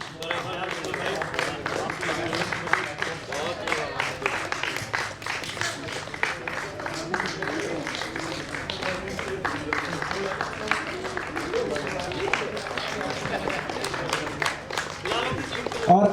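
Steady applause from a crowd at a cricket match final fills the whole stretch, dense clapping continuing without a break, with voices mixed in underneath.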